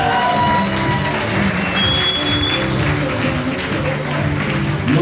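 A concert crowd applauds the drummer of a live band, steady loud clapping from a full audience that holds for several seconds with a few cheers mixed in.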